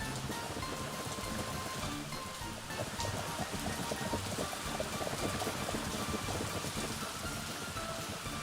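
A hailstorm in a video game makes a dense, steady hiss of rain and hail pelting surfaces, with scattered harder taps throughout and a faint low rumble beneath.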